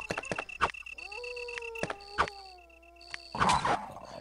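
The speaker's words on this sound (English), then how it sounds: "Oh, why does it have to be a dog?" A dog barks and snarls in the Nintendo DS game Resident Evil: Deadly Silence amid game sound effects and tones, with short sharp bursts near the start and a louder growling burst toward the end.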